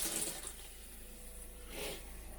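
Water runs steadily through an RV toilet during winterizing, a soft, continuous rushing flow that swells slightly near the end, with no voices.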